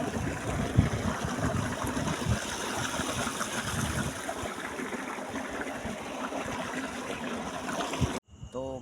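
Water gushes steadily from a motor-driven pump, a dense continuous rushing and splashing close by that runs unbroken for about eight seconds before cutting off abruptly.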